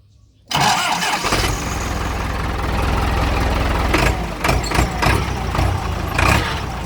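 A 6640 tractor engine cranks and catches after a brief quiet moment, then runs loud and steady with a rough, throbbing idle and a few revs, close by.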